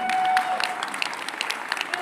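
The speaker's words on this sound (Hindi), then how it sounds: "एक बार जोरदार तालियां हो जाए।" Audience applause at a Ramayana Pratham Sankalp press meet, a dense patter of clapping filling the short span, with faint voices and a brief tonal whine underneath.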